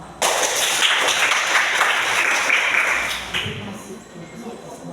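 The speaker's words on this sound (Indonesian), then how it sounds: "Oke, tepuk tangan" An elementary school class breaks into loud group clapping, a dense crackling burst of many hands that starts abruptly and tapers off near the end, with a few voices mixed in.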